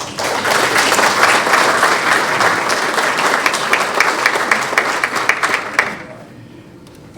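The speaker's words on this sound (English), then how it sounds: "let's give him another round of applause" An audience at a community foundation spring grant celebration gives a loud, sustained round of applause that fills the room for about six seconds before quickly dying away.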